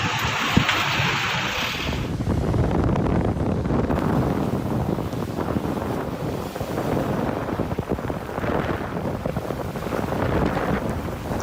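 Strong wind and rain battering a car at Khao Sam Muk beach, a loud, constant roar of gusts buffeting the vehicle for the whole stretch, with no voices.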